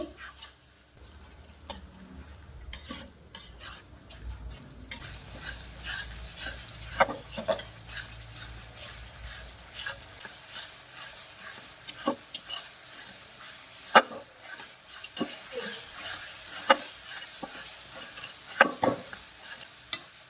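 Spices with cumin, coriander and ginger-garlic paste stir-fried in a pan for mutton kosha: scattered scraping stirs and spatula knocks over a faint sizzle, close and intermittent, with no talk.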